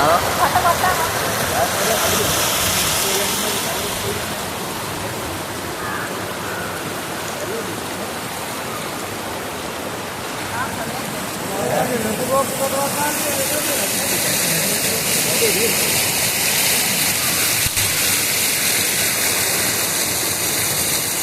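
Water rushes down through a broken spot as a continuous broad, loud hiss of flowing water close by, steady for the whole stretch and swelling brighter in the latter half.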